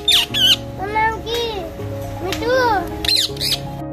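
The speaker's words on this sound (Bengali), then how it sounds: "মিঠু বলে ডাকলে পাল্টা মিঠু বলেই উত্তর দেয়।" A pet parrot squawks and calls back in shrill bursts, close to the microphone, with a person's voice and steady background music around the calls.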